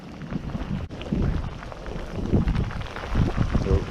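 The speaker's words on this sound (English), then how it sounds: "The wind's picking up as well now." Gusty wind buffets the microphone during cold-weather fishing outdoors, producing rough, swelling low rumbles that rise and fall close to the mic, with a brief dropout near the start.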